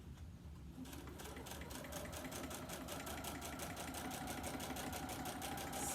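A sewing machine stitches in the ditch on a mini quilt, its needle thumping in a fast, even rhythm that starts up and then runs steadily and close.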